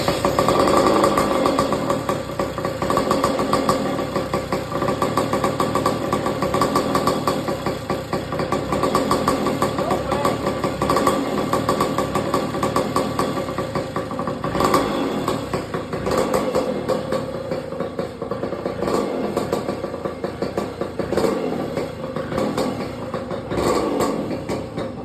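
A 1986 Kawasaki KDX 80 two-stroke dirt bike engine idles loudly and close after a cold start, a steady buzzing rattle that wavers slightly in pace throughout.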